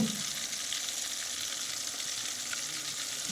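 One kilo of spicy chicken frying in a pan over a village-style wood-fired stove, a steady close sizzle with constant crackling hiss throughout.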